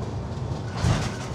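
The Shalimar–Sambalpur superfast express rolls along the rails after leaving Dhenkanal, a steady low rumble with faint rattling inside the coach and a brief louder thump.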